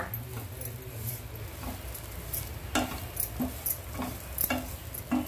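Ground cardamom is stirred into a wet dates sheera in a pan with soft scraping and gentle sizzling, plus a few sharper spoon clinks toward the end, close by with no talking.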